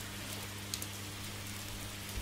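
Rain falls softly in the game Oxenfree, a faint, steady hiss of drops with a low hum beneath and a couple of slightly louder patters.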